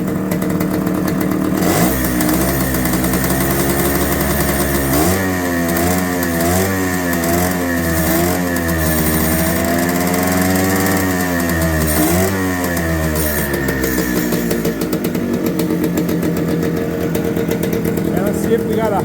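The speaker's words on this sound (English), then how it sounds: "let's see if they'll blink when I rev it up." A Suzuki TS250 motorcycle engine, loud and close, idles and then revs up repeatedly in rising and falling surges that sustain throughout.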